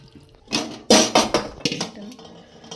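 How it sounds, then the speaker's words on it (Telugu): Chicken masala being stirred into chicken in a metal pot, with a spoon clinking and scraping against the sides in a quick run of sharp, close knocks. "కొంచెం దీంట్లో చికెన్ మసాలా ఇట్లా బాగా కలుపుకోవాలి"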